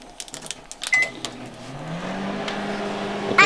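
A microwave oven cooking an egg: door and button clicks and beeps at first, then the motor hum starts and rises into a steady drone, with a voice faintly nearby.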